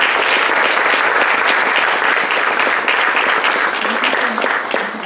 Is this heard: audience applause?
yes